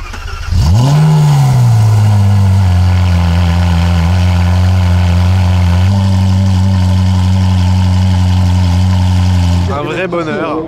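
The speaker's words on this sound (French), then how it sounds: "sa 458 spéciale qui a un échappement Klein qui fait un bruit de malade" A Ferrari 458 Speciale with an aftermarket Klein exhaust starts up loud and close, rises in a quick rev, then holds a deep steady idle before cutting off near the end.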